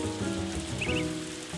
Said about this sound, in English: Yes, it is raining.